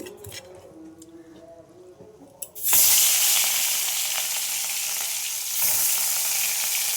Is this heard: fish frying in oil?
yes